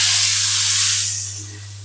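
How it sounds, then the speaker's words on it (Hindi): Hot ginger tadka poured over dal gives a loud, steady sizzling hiss that eases slightly toward the end, with no voices. "तो चलें जी, तड़का ऐड कर देंगे"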